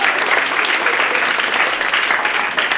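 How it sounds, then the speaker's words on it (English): An audience applauds steadily for an invited guest expert at a leadership talk, dense even clapping that holds at full strength throughout. "Give him a round of applause."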